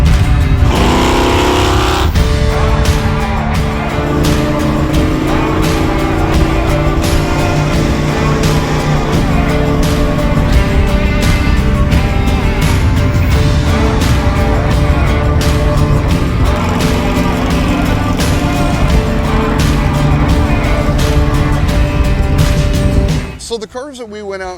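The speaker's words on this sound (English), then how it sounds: "when I stomp on this thing with the open exhaust, it makes so much noise" Early Dodge B-body muscle car with open exhaust under hard acceleration, a loud, sustained, rough engine roar that fills nearly the whole span before cutting off abruptly at the end.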